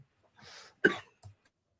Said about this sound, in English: I think she's having a coughing break.